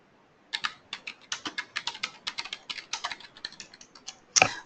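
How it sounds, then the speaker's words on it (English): Fingers type on a computer keyboard in a quick, close, irregular run of keystroke clicks, ending with a sharper, louder clack. "I'll just type again to make sure people can see where I'm typing."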